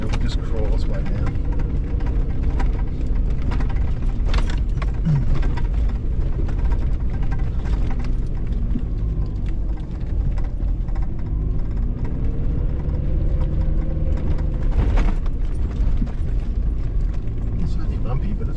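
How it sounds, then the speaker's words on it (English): A vehicle in first gear crawls down the bumpy, slippery McDonald Track with a low engine drone and continuous rattling and creaking from the body and suspension, close and steady, while a person talks throughout. "I could actually go down in first gear and just take my feet off everything,"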